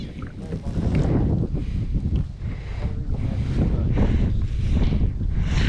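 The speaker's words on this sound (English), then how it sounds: "Wind's blowing, I can't see." Strong wind gusts buffet the microphone while kayak fishing on open water in winter, a loud continuous rushing roar with lapping water underneath and no talking.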